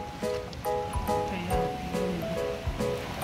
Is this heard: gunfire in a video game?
no